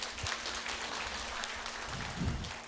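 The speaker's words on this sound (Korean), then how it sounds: "교수님을 따뜻한 박수로 맞이해 주시면 감사하겠습니다" An audience at a district talk concert applauds to welcome a university professor, with soft, fairly distant clapping that stays even with a few low thumps.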